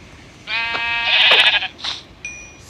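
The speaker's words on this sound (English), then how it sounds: "where's the sheep gone?" Sheep in the Minecraft video game bleat twice in quick succession, a wavering nasal call followed by a shorter one, loud and clear over quiet background.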